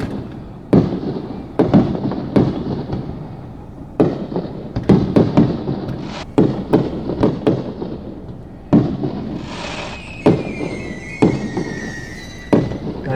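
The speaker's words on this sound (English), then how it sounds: "Finally got some fireworks." Fireworks bursting outdoors at night, seen from a hillside, with about a dozen sharp booming reports at irregular intervals, loud and echoing, and one whistling, squealing rocket trailing off midway.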